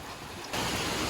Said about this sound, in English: the weather changed really fast and it's pouring rain right now